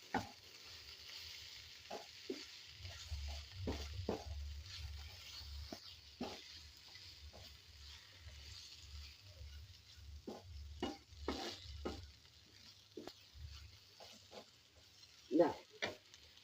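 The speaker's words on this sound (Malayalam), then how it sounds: "ഇതിൻ്റെ പച്ചമണമൊക്കെ ഒന്ന് മാറുന്ന വരെ ഇളക്കി കൊടുക്കുക" Spices stirred and frying in a pan of oil while making a Kerala okra buttermilk curry (vendakka moru curry), with soft intermittent scraping clicks over a low steady sizzle, fairly quiet and without talk.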